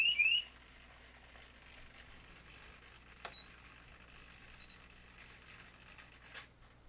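An Eagle Tree Alerter failsafe alarm for radio-controlled models gives a short burst of bright electronic chirps after the transmitter is switched off, then the room falls quiet apart from a couple of faint clicks.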